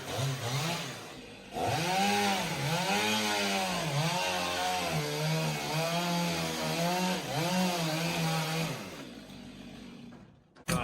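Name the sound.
two-stroke chainsaw cutting log cabin roof timbers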